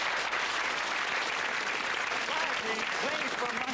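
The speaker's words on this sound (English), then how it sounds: "Let's give him a big round of applause, ladies and gentlemen." Studio audience applause on a 1989 television game show, dense steady clapping filling the whole stretch at an even level, with a faint voice surfacing briefly near the end.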